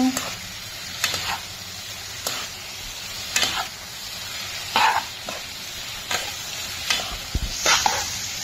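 Paneer pieces stirred in a hot pan for chilli paneer, a spatula scraping in repeated strokes about once a second over a steady low sizzle, close and fairly loud, with no talk.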